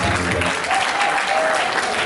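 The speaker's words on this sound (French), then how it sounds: "Est-ce qu'on peut applaudir très très fort pour ça?" A hall full of guests at a 70th birthday celebration breaks into loud, continuous applause, dense and even from start to finish.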